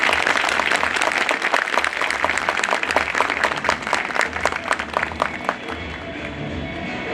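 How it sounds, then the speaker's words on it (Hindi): A lawyers' audience at a Bar Council of Delhi enrolment meeting breaks into loud, dense applause. The clapping is close and strong, holds steady for several seconds, and thins slightly near the end under a low background hum. "जोरदार तालियों से मुझे बताइए आप लोग।"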